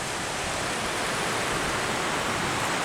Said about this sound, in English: There's a nice waterfall up there.